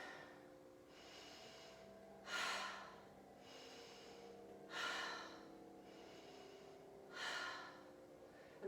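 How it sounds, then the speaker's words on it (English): Breathing during a yoga low-lunge twist: three slow, audible breath cycles, each a soft sustained phase ending in a sharper exhale roughly every two and a half seconds, quiet and close. "And breathe."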